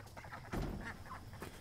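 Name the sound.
ducks being fed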